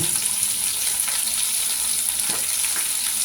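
Shellfish dropped into a hot frying pan while cooking crispy fish with Chinese kale, setting off a loud, steady sizzle with a few sharper bursts of spattering, and no voices.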